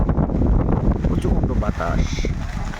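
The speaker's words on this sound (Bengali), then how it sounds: "প্রচণ্ড বাতাস আর ধীরে ধীরে বৃষ্টি" Strong wind roars and buffets steadily throughout, a dense rushing noise that fills the whole moment without pause, as light rain begins.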